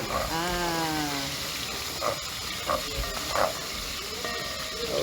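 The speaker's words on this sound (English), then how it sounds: "normally to make it fast, of course, I will use the pressure cooker" Steady loud hiss of steam escaping from a pressure cooker in a Malaysian street food kitchen, broadband and continuous, with a tonal whistle at the start and brief clatters over it.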